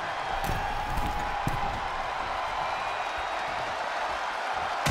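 Crowd at a wrestling match in a video game, a constant wash of distant cheering and murmur with scattered faint claps and thuds, steady and moderately loud throughout.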